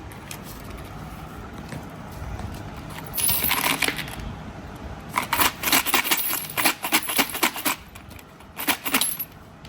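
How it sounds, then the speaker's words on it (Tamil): Coins from a blue piggy bank are counted by hand, with repeated metallic jingling and clinking in short bursts, close by and loud, and no talk over them. "இங்கே வந்து ஃபஸ்ட்டு இந்த ப்ளூ கலர் உண்டியலில் உள்ள காசு தான் வந்து கவுண்ட் பண்ணிகிட்டே இருக்காங்க"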